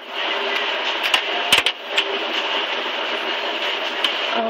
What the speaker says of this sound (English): I'm using my Cuttlebug right here. Is my die cutting machine.